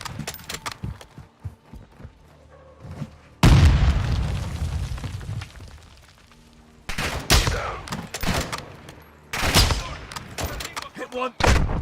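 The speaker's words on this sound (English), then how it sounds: "Panic shooting at its finest" Call of Duty gunfire in bursts: rapid crackling volleys and heavy booms, a long loud barrage in the middle and more sharp bursts near the end, with quieter scattered shots between.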